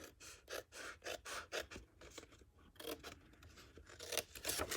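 Scissors snip through scored cardstock for a paper gift bag, a series of close, crisp cuts with a rasping edge and short gaps between them, no talk.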